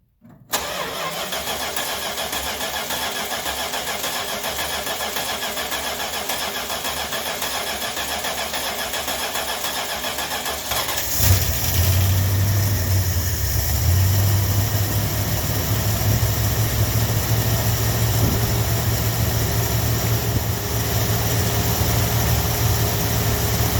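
Mopar 318 V8 fitted with a new BBD carburetor and the choke closed, cranking steadily for about ten seconds, then catching and settling into a loud, rough, steady idle nearby.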